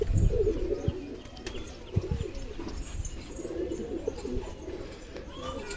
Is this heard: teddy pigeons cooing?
yes